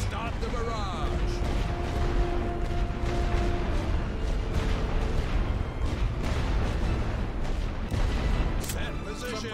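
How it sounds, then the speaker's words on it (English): An artillery barrage in the World War I strategy game The Great War: Western Front rumbles as a loud, sustained wash of booming fire and mechanical clatter, with voices shouting over it. "Load for area barrage! Start the barrage!"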